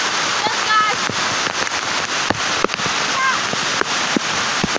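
Steady heavy rain and rushing water fill a forest near a river crossing, a dense constant wash with a few sharper splashes and drips, close and loud throughout.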